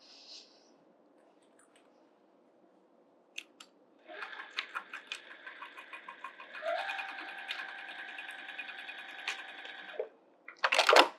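A sewing machine stitches a quarter-inch seam along the raw edges of a bag, starting after a few clicks and running steadily for several seconds at close range, then stopping with a brief clatter.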